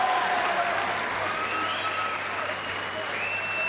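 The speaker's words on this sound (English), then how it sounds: "if you listen to the crowd, you'll think Lynes is totally dominating this fight" Boxing arena crowd at a championship fight between Colin Lynes and Pablo Sarmiento, applauding and cheering in a steady, dense roar that holds for the whole stretch, with ringside commentary mixed faintly underneath.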